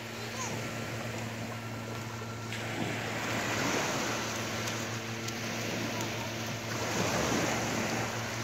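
Surf rolls onto a beach with washing wave surges and wind buffeting, while a low steady hum and faint voices sit underneath.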